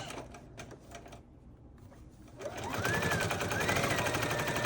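A sewing machine back-stitches the shoulder seam of a silk jacket, starting with a few quick ticks and stops, then running in a steady, close, buzzing whir that builds and rises slightly in pitch.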